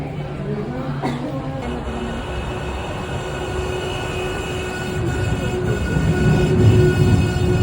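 Hong Kong Peak Tram rumbling along with a steady low rolling drone and a brief squeal near the start, building slightly louder toward the end, with faint voices in the background.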